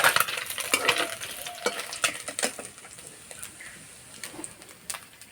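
Fish frying in hot oil until red and crisp, a soft steady sizzle broken by several sharp crackles and spatters, with a few light clinks of a utensil stirring.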